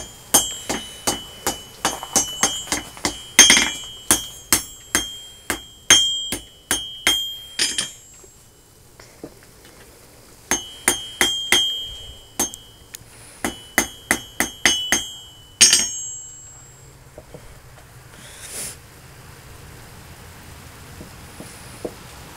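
Hammer forging a 12-layer steel boot knife: bursts of rapid, ringing metal blows in steady rhythm, separated by short pauses, loud and close with no voices.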